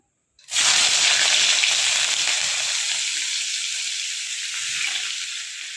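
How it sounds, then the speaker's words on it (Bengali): Chopped onion, garlic and chili drop into hot oil, bursting into a sudden loud sizzle that settles into a steady, bright hiss and fades slightly as it keeps frying. "রসুন কুচোনো, লঙ্কা কুচোনো দিয়ে ভালো করে একটু ভেজে নেব"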